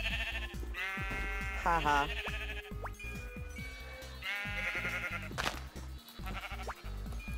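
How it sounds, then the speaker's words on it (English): Sheep bleat in the video game Minecraft, several wavering calls under game music, while someone talks and laughs over them. "Oh, sheeps."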